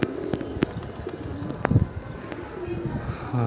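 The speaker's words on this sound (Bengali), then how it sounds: "কবুতর নামছে" Flock of loft pigeons coming down onto a rooftop under a clear sky, with soft cooing, a few sharp wing claps and flutters close by, over quiet background.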